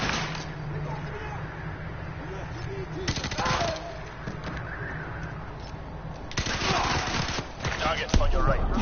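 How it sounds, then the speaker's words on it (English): Bursts of automatic gunfire from squad covering fire in Call of Duty: Modern Warfare 2 campaign remastered, rattling over steady game ambience, with louder stretches near the middle and toward the end. "So Soap is keeping covering fire on lock."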